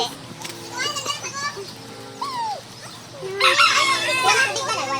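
A rooster crows amid a lively outdoor scene, with people talking and children's voices close by, and more birdsong and chatter rising toward the end.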